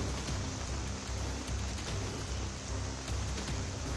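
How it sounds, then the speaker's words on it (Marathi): Steady rain falls across Mumbai, a dense, even hiss of drops that holds at a constant moderate level without pause. "पहाटेपासूनच पावसाची रिपरिप सुरू आहे"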